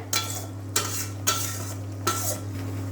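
Chicken fries in a pan under a low hum and soft sizzle, while a utensil scrapes and stirs in four distinct strokes spaced about half a second apart. There is no talk.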